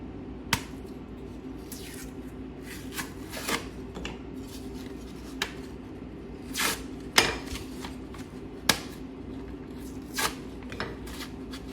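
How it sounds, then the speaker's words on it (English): Paper edges being peeled off a drywall patch, soft tearing and rustling scrapes in scattered bursts, close and quiet over a low room hum, no speech. "So I'm just going to peel these other edges off."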